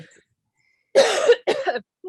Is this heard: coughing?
yes